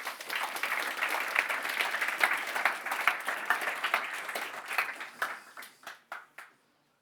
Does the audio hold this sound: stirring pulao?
no